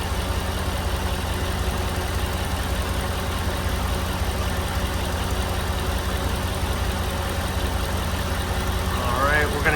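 A Mercedes engine idles steadily with the air conditioning under test, a constant close mechanical hum and whir lasting throughout, with a brief faint voice near the end.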